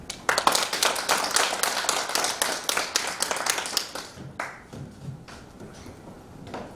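An audience applauds after a lecture on brain health, with dense clapping that thins out to a few scattered claps toward the end.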